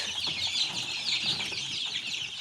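Mixed home-raised chicks, Adler breed among them, keep up a steady shrill twittering, many small voices overlapping close by with no one talking.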